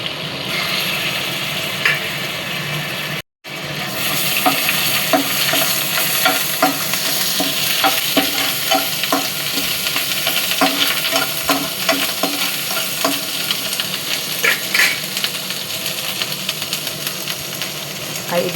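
Garlic paste frying in a pan for butter chicken, a loud, close, continuous sizzle with dense crackling and frequent spoon scrapes, cut by a brief silent break early on before the frying resumes just as strongly.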